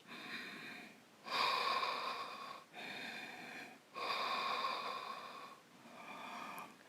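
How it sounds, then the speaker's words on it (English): Slow, deep yoga breaths in and out through the nose and throat, each lasting a second or more, close and airy, with four or five cycles and no talking. "Deep breathing in and out from the back of your lungs."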